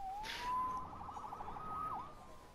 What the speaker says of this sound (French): Sauvé par les sirènes.